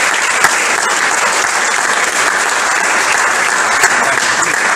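A church congregation applauds loudly and steadily during a Christian sermon, dense clapping filling the space without a break from start to finish.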